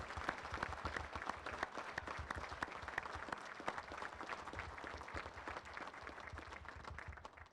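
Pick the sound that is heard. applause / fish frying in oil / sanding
applause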